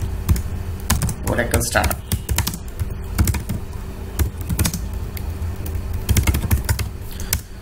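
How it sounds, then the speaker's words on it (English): Fingers typing on a computer keyboard while entering Oracle database commands, a quick run of close, crisp key clicks under a brief spoken phrase. "Let me type here"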